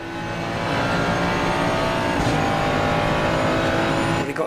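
Racing car engines in a sim-racing game drone loudly and steadily while the car slipstreams toward a Bentley, the engine note holding near with a faint squeal of tyres and no talk.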